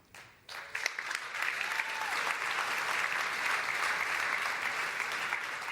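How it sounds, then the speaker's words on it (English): An audience at an entrepreneurship panel event breaks into applause that starts with a few scattered claps and swells into steady, sustained clapping from a sizable crowd, continuing evenly to the end. "I'm using up crucial final seconds here on clapping."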